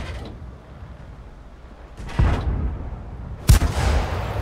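Tank cannon shots in the World of Tanks video game: two loud heavy booms with rumbling tails roughly a second and a half apart, over a low mechanical hum.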